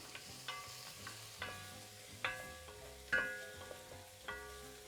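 Spices sizzle in a pot for Algerian hariri while a spoon stirs them, giving a series of sharp scraping clinks about every half second over a quiet frying hiss, close and without talk.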